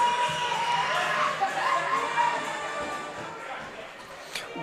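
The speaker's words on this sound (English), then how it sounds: "The crowd goes absolutely crazy." A small-town baseball crowd at an evening game cheers a game-winning run, loud shouts and whoops near the start that fade gradually, with voices mixed in.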